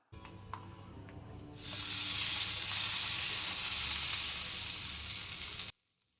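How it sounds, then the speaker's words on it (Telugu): A tempering of urad dal, fennel, dried red chillies and curry leaves for a hotel-style peanut chutney crackles quietly at first, then bursts into a loud, close, steady sizzle as the leaves hit the oil, cutting off abruptly. "కొంచెం కరివేపాకు కూడా యాడ్ చేసుకుని బాగా ఫ్రై చేసుకోవాలి"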